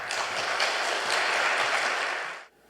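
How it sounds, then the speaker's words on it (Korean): Audience in a church hall breaking into applause to welcome a guest professor to the podium, a dense, even wash of clapping lasting a couple of seconds before cutting off abruptly. "교수님 나오실 때 큰 박수로 맞아주시면 좋겠습니다"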